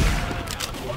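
A sniper rifle gunshot in a first-person shooter, a loud sharp crack at the start that rings out over a busy bed of game noise and distant fire.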